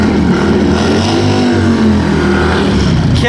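A Kawasaki H2R supercharged motorcycle at a bike night drag race, a loud sustained engine roar heard close, with crowd and track ambience blended in.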